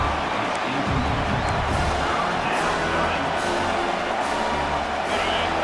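Football stadium crowd roaring on a third down in the red zone during a college game: sustained loud cheering and crowd noise throughout, with a few sharper shouts rising above the din.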